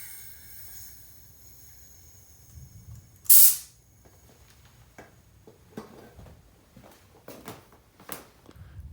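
Air bursts from the opened valve of a Harbor Freight 3-gallon pancake air compressor in one loud, short hiss. Quiet handling clicks and small knocks follow.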